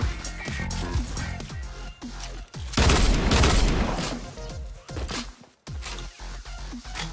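Rapid bursts of gunfire and booming blasts in Fortnite Battle Royale, loud and close, with sharp repeated shots and a sustained volley in the middle, a brief silence, then more shots.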